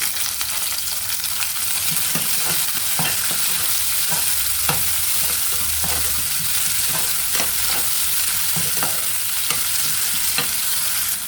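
Steady hot-oil frying of onion with a constant sizzle, punctuated by scattered stirring scrapes and clicks from a spoon in the pan; no talking.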